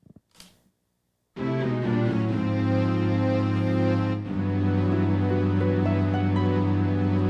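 After a short click, the loud synth-heavy 1992 Saturday Night's Main Event wrestling theme kicks in with a sustained brassy melody and steady backing, playing continuously to the end.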